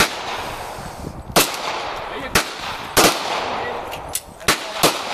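Gunshots fired at an outdoor gun range in America, about seven sharp loud cracks spaced irregularly over several seconds, each standing out clearly above a steady background hiss.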